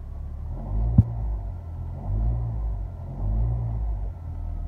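A car engine idles in gear during a transaxle mount test, a low steady rumble that swells twice as it is shifted between drive and reverse, with one sharp clunk near the start.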